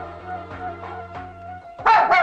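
A dog barks a few times in quick succession, close and fairly loud, the barks followed by a short higher yelp-like burst at the end, within a comedy scene.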